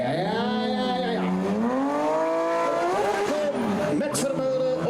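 A rally car at a shakedown in Nieuwkerke drives past with a loud engine whose pitch rises through the gears and then sweeps down as it passes close by, a brief tire squeal near the end.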